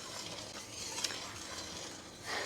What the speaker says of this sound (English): even though I'm stirring, it continues to bubble